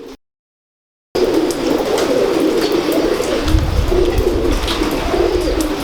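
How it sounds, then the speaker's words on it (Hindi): Pigeons coo steadily at a pigeon-keeping loft in Gujranwala, a close, continuous throaty murmur following a brief silence. "जी भट्ट साहब कौन से कबूतरों को शौक करवा रहे हैं?"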